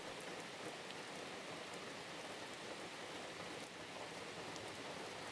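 Steady, dense rain pours onto a pavilion roof in a forest, a continuous even hiss of drops with no pauses or voices.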